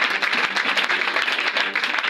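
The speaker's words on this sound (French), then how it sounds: "Acclame pour toi-même." Dense, steady applause and clapping from a church crowd at a French-language deliverance sermon, continuous and fairly loud for about two seconds with no talk over it.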